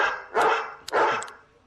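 A dog, a part Yorkie, part pug mix, gives two sharp barks in quick succession, close and clear against an otherwise quiet background.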